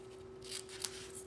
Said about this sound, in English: And then I took the scissors and clipped the ribbon.